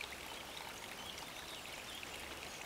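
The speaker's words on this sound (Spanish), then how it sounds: "esta tubería no ha sido enganchada al mismo y vierte sus aguas directamente" Untreated sewage from an unconnected pipe pours directly into the Arroyo del Molino, a steady, soft rushing and splashing of water that continues evenly and alone, without voices.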